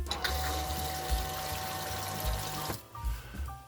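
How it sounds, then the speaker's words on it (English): Antifreeze is pumped through a toilet tank, making a steady trickling, gurgling liquid flow with a faint pump whine that cuts off near the end, leaving a few softer drips and splashes. "we'll see if I can pump the antifreeze through the toilet tank here"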